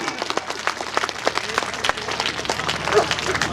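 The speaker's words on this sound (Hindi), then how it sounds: "तालियां जोरदार बजती" A crowd at a comedy poetry show claps loudly and steadily for several seconds, a dense round of applause with faint voices underneath.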